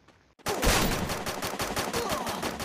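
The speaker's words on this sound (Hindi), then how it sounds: "गाइस मैं इसको ये छोटा वाला गन से मारूंगा।" A small gun in the Garena Free Fire video game fires a rapid, loud burst of shots in quick even succession right after a brief silence, with no voices.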